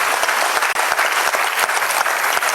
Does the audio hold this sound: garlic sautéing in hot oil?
no